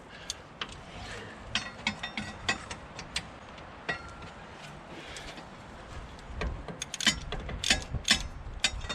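A wrench tightens the rear brake caliper bolts on a BMW 1 Series, giving a close series of irregular metallic ratchet clicks and clinks that grow denser and louder toward the end.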